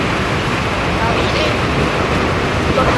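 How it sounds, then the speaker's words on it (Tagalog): Typhoon wind and rain batter a house during a storm that rips at the roof, a loud, steady broadband roar of gusts and downpour filling every moment, with voices faintly underneath. "Ay, bagong bagyo."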